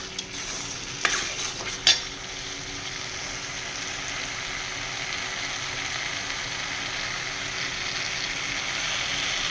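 Palak gravy stirred in a sizzling pan, a soft steady frying hiss with a couple of sharp utensil clinks near the start, close and fairly quiet with no voices.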